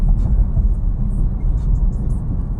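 A 2026 BMW M3 Competition is driven, heard from inside the cabin as a loud, steady low engine and road rumble with faint higher whirring.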